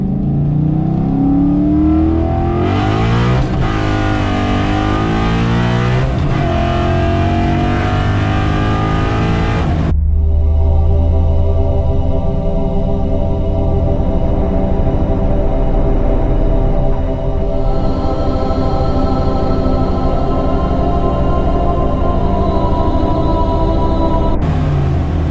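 A car on drag tires accelerates hard, its engine roaring loud and close as the pitch climbs through each gear, with a clear upshift around ten seconds, then keeps pulling at high revs.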